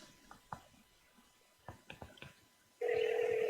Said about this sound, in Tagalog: Ayan, nagre-ring na.